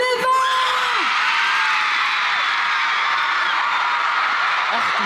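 A concert crowd screams and cheers loudly and without a break for a special guest. The dense, roaring wall of voices fills the whole stretch, with a brief voice heard at the very start.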